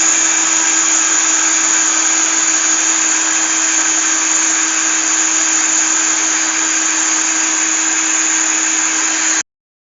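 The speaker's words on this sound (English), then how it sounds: "here I'm using a plastic wine whip, and that's been sanitised and it's in a cordless electric drill" A cordless electric drill spins a sanitised plastic wine whip, stirring homemade wine in a fermenting bucket. The steady, loud, high-pitched whine runs unbroken for nearly ten seconds, then cuts off abruptly.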